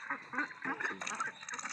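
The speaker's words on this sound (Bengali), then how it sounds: "সে মজা পাচ্ছে হাঁসগুলা।" Young ducks, under two months old, quack busily and continuously while eating their feed, a dense chorus of close, overlapping calls with no talking.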